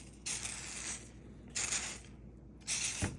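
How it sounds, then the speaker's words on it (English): A hunting rifle's bolt is handled and given three short bursts of spray oil, each hiss lasting about half a second to a second with faint metallic handling sounds between them. "So I like to take the whole bolt out and just give it a good little spritz."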